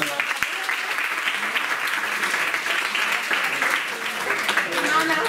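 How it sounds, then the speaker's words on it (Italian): Steady applause from an audience at a murder-mystery dinner party, dense and continuous for the whole stretch, with some voices mixed in under the clapping. "Un applauso"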